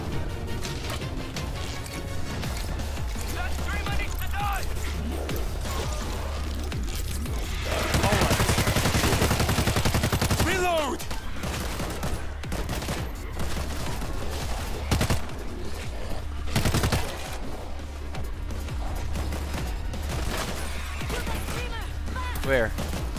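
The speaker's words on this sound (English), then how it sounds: "Gunfire from the bus." Rapid bursts of game gunfire crackle and boom across the scene, with a dense volley in the middle, while voices talk and shout over it.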